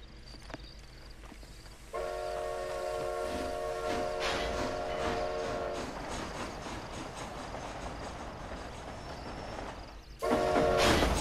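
Train rolling along in the Red Dead Redemption Undead Nightmare video game: a steady rumbling run with sustained tonal whistle or horn-like tones near the start and again at the end, loud and continuous with no talk.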